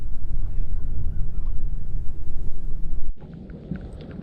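Strong 25 to 30 mph wind on Lake Lanier roars and buffets loudly and close for about three seconds, then cuts off abruptly to quieter open-air background.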